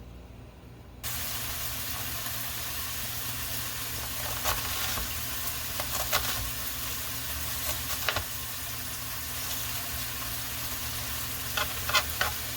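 Beef sizzles and fries in oil in a pan, a steady close hiss with occasional louder crackles and spatters, no voices present.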